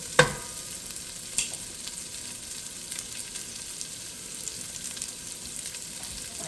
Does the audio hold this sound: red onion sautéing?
yes